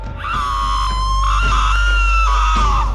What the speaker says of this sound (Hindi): चुड़ैल चिल्लाते हुए मर जाती है